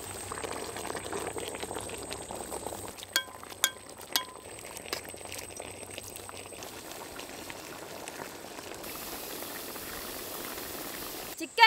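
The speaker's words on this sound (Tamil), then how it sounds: "மசாலா நல்லா கொதிச்சிட்டு இருக்குங்க." Thick chicken masala sauce bubbling in a pot, a soft continuous burble with a few utensil clinks partway through.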